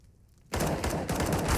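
USP pistol fire in Counter-Strike during a Gen.G versus FURIA esports match, a dense run of quick shots that starts abruptly after a quiet moment and stays loud to the end.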